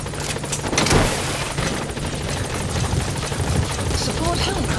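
Support helicopter from Metal Gear Solid V: The Phantom Pain landing at a landing zone, a steady loud rotor drone filling the whole clip, with in-game radio voices and faint gunfire cracks over it.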